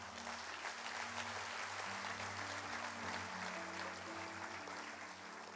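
Congregation in a church applauds the Lord, steady sustained clapping over a held low organ-like tone, unbroken from start to finish.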